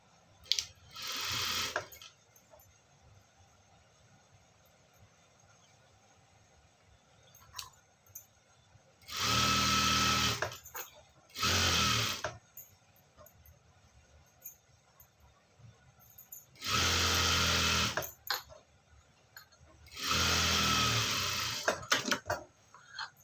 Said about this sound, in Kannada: ಈ ಲೈನಿಂಗ್ ಈ ಥರ ಉಲ್ಟಾ ಹಾಕ್ಬಿಟ್ಟು ಈ ಎಡ್ಜಲ್ಲಿ ಇಲ್ಲಿ ಒಂದು ಸ್ಟಿಚ್ ಹಾಕೊಳ್ಬೇಕು